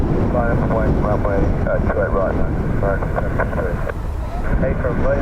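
A fixed-wing airliner rolls for takeoff at Dublin Airport in a stiff wind, its engines roaring loud and continuous with a rising whine, while people talk nearby over the noise.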